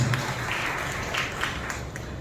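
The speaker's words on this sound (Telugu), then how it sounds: "బిగ్గరగా చప్పట్లు కొట్టి ప్రభు మహిమపరచండి." A church congregation applauds loudly in praise of the Lord during a joint evening worship service, a sustained burst of many hands clapping together at close range.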